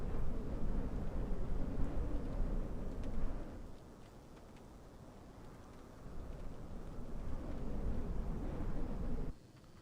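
Steady roar of wind and rain in Microsoft Flight Simulator, with the aircraft parked at Stornoway, loud and continuous, dipping briefly midway before cutting off near the end.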